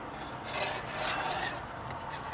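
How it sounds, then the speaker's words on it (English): Scraper rasping along the edge of a wooden deck step under light pressure, a steady close dry scrubbing with a few stronger strokes and no talk. "So I'm hardly putting very much pressure on there at all as I'm scraping."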